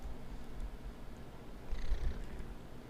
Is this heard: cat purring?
yes